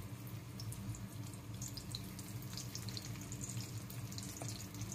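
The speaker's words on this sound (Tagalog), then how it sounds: "Prito natin ang tuyo." A steady, quiet sizzle of dried fish frying in hot oil in a pan, with soft crackles and pops throughout and no talking.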